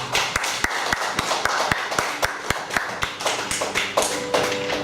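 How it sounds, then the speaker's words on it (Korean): A church worship congregation clapping hands in a fast, even rhythm, each clap a crisp distinct strike, close and steady throughout with a faint musical tone underneath. "우리 박수 좀. 박수."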